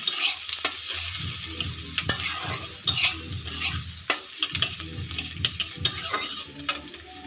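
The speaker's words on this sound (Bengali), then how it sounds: "এটা আমি একটু নাড়তে থাকবো" Chicken stew with minced garlic being stirred in a pot, spoon scraping in a steady rhythm over a constant bubbling sizzle, close and clear with no talking.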